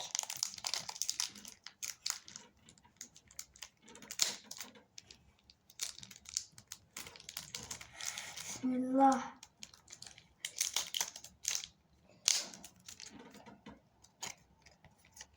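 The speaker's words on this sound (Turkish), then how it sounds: "Bismillahirrahmanirrahim diye kutuyu şöyle açıyorum." A box of cards being opened by hand, with crinkling, rustling and ticking clicks of cardboard and plastic wrap close up, intermittent over a quiet room while a person talks briefly.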